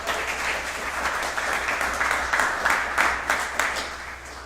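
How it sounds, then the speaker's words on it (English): An audience at an evening talk bursts into steady, dense applause for a supporter in the room, clapping continuously at close range for several seconds. "big round of applause for Devin McDougall."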